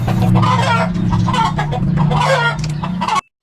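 A chicken clucks and squawks up close over several seconds, with low background hum, before the sound cuts off abruptly.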